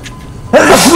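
A single sudden sneeze bursts out loud and close after a quiet moment, with a sharp onset and a breathy, voiced tail.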